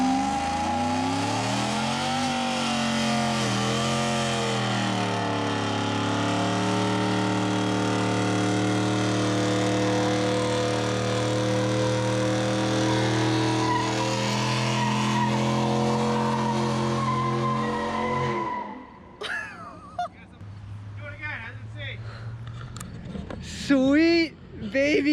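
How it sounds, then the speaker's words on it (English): A 2020 GMC Denali fitted with Kooks headers does a loud burnout, the engine roaring and rising in pitch for about eighteen seconds before cutting off, followed by scattered tire squeals and crowd noise. "but what we really like is a good burnout."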